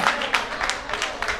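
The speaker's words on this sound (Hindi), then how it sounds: "ज़रा सा निहाल अख्तर साहब के लिए एक बार ताली बजा दे" An audience at an Urdu poetry gathering applauds, with a steady wash of many hands clapping close by and some crowd murmur mixed in throughout the short burst.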